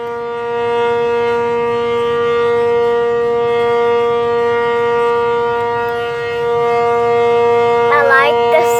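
An ACA Cyclone 125 civil defense siren sounds during a test in Amarillo, Texas: a loud, steady, rich wail holding its pitch throughout, with a brief wavering near the end.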